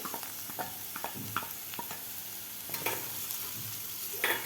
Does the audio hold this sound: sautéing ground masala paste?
yes